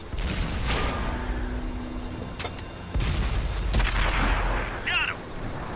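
A tank cannon in a video game fires amid a dense battle soundscape, with booming blasts around the midpoint and later, layered over continuous rumble and in-game voice chatter.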